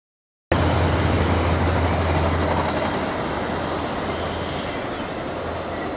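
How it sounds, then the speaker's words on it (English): A VIA Rail passenger train rolls through a station near Pickering, Toronto, a steady close rumble with wheel noise and faint squeal that starts suddenly and fades slightly as it passes, with no voices. "We got a via train."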